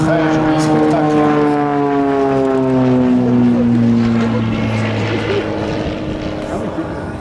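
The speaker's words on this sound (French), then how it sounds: "Les Beech ont une très bonne réputation, sont des avions stables." A Beechcraft Bonanza propeller plane flies aerobatics at a seaplane gathering in Biscarrosse. Its engine makes a loud, steady drone throughout, with the pitch sliding slowly downward as it passes and moves away.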